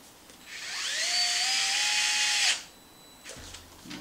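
A power tool spins up with a rising whine and holds a steady high buzz for about two seconds, tightening nuts on hinge pins of an X-Maxx RC truck, then stops, followed by faint handling noises.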